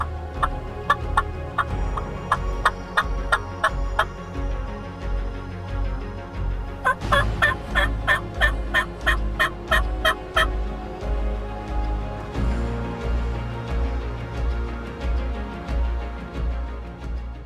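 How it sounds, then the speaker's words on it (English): Wild turkeys gobble in repeated rattling bursts at a moderate distance, several calls overlapping over a low rumbling background. "There's some turkeys out."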